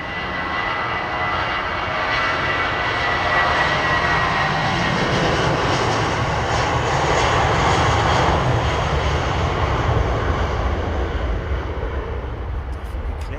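An airliner's engines roar steadily at Heathrow Airport in fog, a loud, sustained, broadband rumble holding at one level for the whole stretch with no speech over it.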